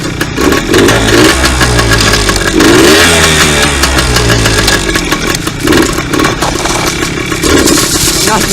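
A new two-stroke dirt bike engine revs loud and close, its pitch rising and falling in repeated throttle blips over a continuous buzzing idle.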